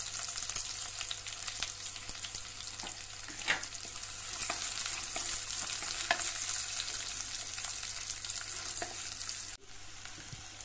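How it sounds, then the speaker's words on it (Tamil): Chopped onions frying in a pan for egg kurma give a steady, close sizzle with occasional stirring clicks. No one talks, and the sizzle drops slightly near the end. "அடுத்ததாக நாம அரிஞ்சி வச்சிருக்கிற வெங்காயத்தை சேர்த்துக்கலாம்."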